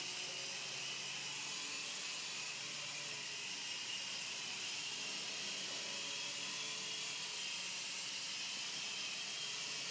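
A tiny micro RC helicopter flies backwards indoors, giving off a steady high-pitched whine and airy hiss that stays constant and fairly quiet throughout, with no voices.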